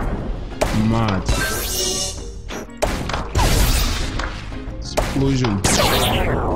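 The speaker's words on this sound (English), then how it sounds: "Explosion." Bursts of explosions from the Zuma Revenge ball-shooting game crash and thud in quick succession, mixed with bright electronic game effects and chiming tones, loud and close throughout.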